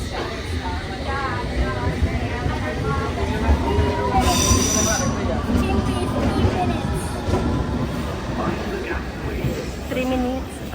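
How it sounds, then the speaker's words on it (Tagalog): Trains pass through a busy London station, with loud rolling rumble, clatter and high wheel squeals over about ten seconds, while people talk nearby. "Daming train dito."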